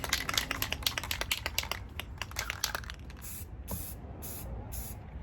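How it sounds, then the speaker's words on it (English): A spray paint can rattles in quick clicks, then releases several short hissing bursts of spray, close and moderately loud, with brief pauses between. "I've got a ton of spray paint."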